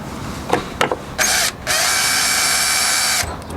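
A power drill runs on the upper radiator hose of a Ford Ranger during a restoration, with two short bursts followed by a loud, steady whir lasting nearly two seconds, close up and with no talking.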